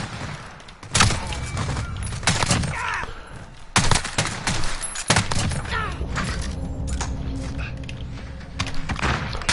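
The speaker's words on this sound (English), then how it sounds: "trying my hardest to kill them with this marksman rifle" Marksman rifle fire in the Modern Warfare shooter: several sharp, loud shots spaced irregularly across the span amid busy battlefield noise, with a player talking over it.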